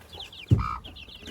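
Araucana chickens and chicks in a small backyard flock, soft high peeping with one louder low cluck from a hen, heard close.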